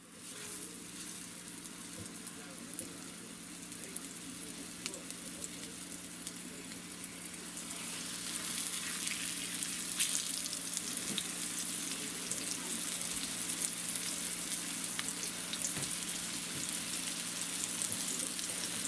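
Food sizzles steadily in a frying pan, a dense crackling hiss that grows louder partway through and continues without talk.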